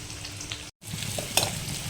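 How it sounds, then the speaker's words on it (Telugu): Onion and green chillies fry in hot oil in a pan, a steady close sizzle with a brief cut and some stirring scrapes, no talking. "వేపేసుకున్నాం కదా, ఉల్లిపాయ వేసాము, పచ్చిమిరపకాయలు"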